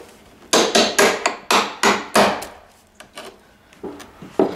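Repeated sharp wooden cracks and knocks with squeaky pops, close by, about ten in a steady uneven rhythm, as a nail pops loose while quarter-round trim is pried off for floor prep.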